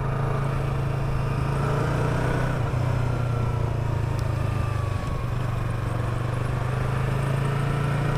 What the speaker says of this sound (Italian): c'è la mia moto che fa dei rumori strani